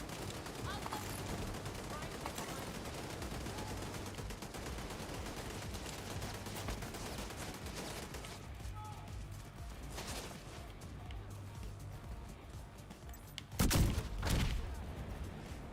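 Automatic weapon fire in The Division 2 keeps up a steady crackle of shots under voice chatter, and a sharper, louder burst of gunfire lands near the end.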